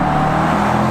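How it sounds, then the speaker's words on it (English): The exhaust of a 2018 Range Rover Sport SVR drones deep and loud up close, a continuous rumbling note with no voices. "the exhaust note gets louder"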